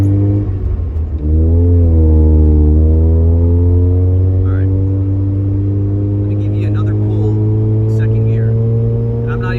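A Mazda RX-7 fitted with a Racing Beat exhaust revs up with a loud, close, droning engine note that rises and holds steady, with faint background noises.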